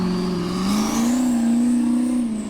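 A Chevy V8 turbo engine in a converted Suzuki off-road racer for Icelandic Formula Offroad at Akureyri roars steadily with its pitch climbing. It sounds loud and close throughout and carries no voices.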